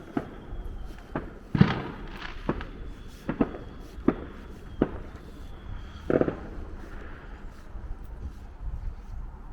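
Fireworks over a North Wales town at night, a scattered series of sharp cracks and bangs, some near and some distant and echoing, with wind noise underneath.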